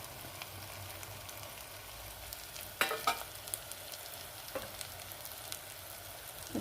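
A spoon stirs mutton paya with masala, coriander powder and coconut powder in a pan, giving a soft, low simmering sizzle with a few sharp scrapes and clinks of the utensil against the pan.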